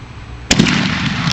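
A single sharp, loud neighborhood firework blast bursts suddenly out of a quiet backdrop, followed by a brief echoing crackle and a lingering rumbling wash.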